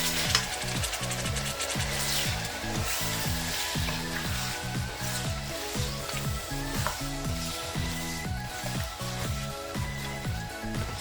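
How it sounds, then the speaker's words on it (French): Onions frying in a pan for lamb kidney, a loud, steady sizzle with rhythmic knocks and scrapes of stirring running throughout, close up with no voices. "J'ajoute mes oignons."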